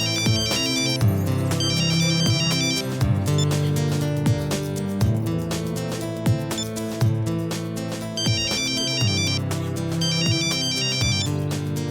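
A mobile phone ringtone plays a looping electronic melody, loud and continuous, with a repeating tune and bright chiming notes, no voices over it.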